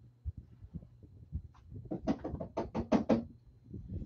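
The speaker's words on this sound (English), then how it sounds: "someone's knocking on my window" Someone knocks on a window in a rapid series of knuckle raps that start soft and grow louder and more insistent. The knocks are heard alone in a quiet indoor room.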